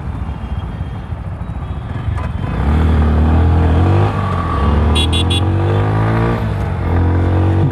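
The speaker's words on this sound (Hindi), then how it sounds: "गाड़ी तो उठती है एकदम रॉकेट की तरह, मज़ा आता है।" A car pulls away hard while being driven on a long tour, its engine note climbing in loud, sustained revving close up, with a brief high chirp partway through and no one talking.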